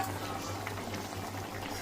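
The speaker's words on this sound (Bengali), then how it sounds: "তো ঝোলটা বলক চলে আসছে।" Curry gravy coming to a boil in a pan, a faint continuous bubbling simmer with a low steady hum beneath it.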